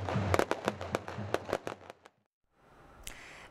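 Fireworks close a large circumcision wedding celebration with a rapid string of sharp cracks and bangs. A brief pause follows, then a fainter crackle, with no talk.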